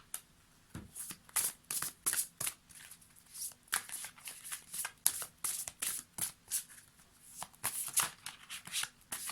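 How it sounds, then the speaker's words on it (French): A deck of oracle cards is riffled and shuffled by hand in quick repeated bursts of crisp flutters and snaps, close and fairly quiet, with no talking. "on va prendre notre petite carte oracle comme d'habitude"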